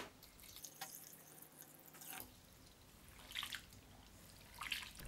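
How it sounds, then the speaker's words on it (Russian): Julienned potato strips rinse in cold water for a festive salad, a faint trickle and soft sloshing with a couple of brighter splashy bursts, quiet and close with no talking. "Промываем картофельную соломку в холодной воде 2-3 раза до ее полной прозрачности."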